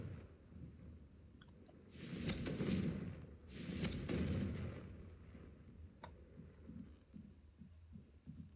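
Confringo fire spell blasts in Hogwarts Legacy, two booming explosions a second or so apart over a low rumbling game soundscape, followed by softer thuds, no talk.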